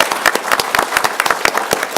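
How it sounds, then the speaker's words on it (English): Audience applause for three distinguished panelists at the close of a panel session, dense rhythmic clapping filling the room without talk. "let's have a big applause to our 3 distinguished"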